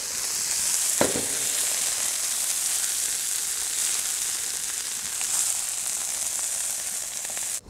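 Pork fillet frying in a hot wok gives a steady, dense sizzle that holds for several seconds, with a clack of a utensil near the start and a brief scrape before it cuts off.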